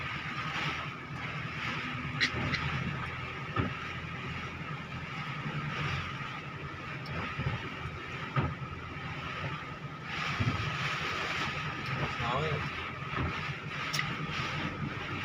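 Steady gusting wind roars during a heavy rainstorm over a noisy outdoor background, with occasional louder bumps and rattles, continuous throughout and no talking.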